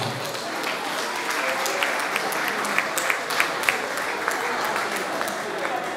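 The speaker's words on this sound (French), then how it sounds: "On peut applaudir encore." Audience applause at a Congolese cultural evening, a dense sustained wash of clapping from a large crowd, steady and close throughout with a few sharper individual claps standing out.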